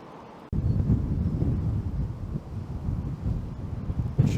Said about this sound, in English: It should be a good test for the microphones anyway, because it's blowing a hoolie.